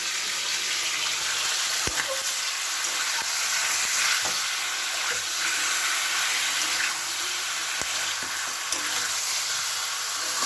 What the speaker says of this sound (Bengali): এখানে তেলের মধ্যে শুধু মাংসটা দিয়ে একটু এই যে নেড়ে নিচ্ছি, হালকা করে ভেজে নেবো